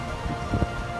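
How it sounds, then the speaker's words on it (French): Rain falls steadily at Milford Sound fjord in New Zealand's national park, a soft continuous patter with a brief louder splash or gust in the middle. "Quelle frustration, il pleut littéralement."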